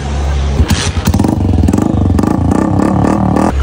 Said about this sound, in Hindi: जाने लगा हूँ बाइक का एग्जॉस्ट उतरवाने का। आपको आखिरी बारी इसका जरा साउंड चेक करवा देते हैं।